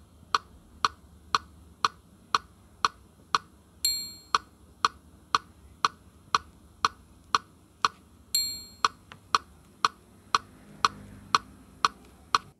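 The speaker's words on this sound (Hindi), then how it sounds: "तो जब 9 पे कर दिए तो ये अब 8 बार टिक टिक कर रहा है, 9वें पे किच्चिस कर रहा है ना।" A Casio CTK 2550 keyboard metronome set to nine beats ticks steadily at an even tempo, with eight plain clicks followed by a brighter, higher accent on every ninth beat, close and alone.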